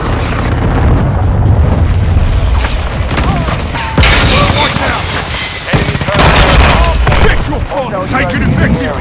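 Heavy explosions and rapid gunfire from a Call of Duty: Modern Warfare II multiplayer match, loud booming blasts with crackling fusillades that repeat in bursts over several seconds, with shouted voices in between.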